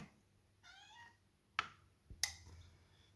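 A cat meows once, fairly soft and drawn out, followed by a couple of sharp clatters nearby in an otherwise quiet room.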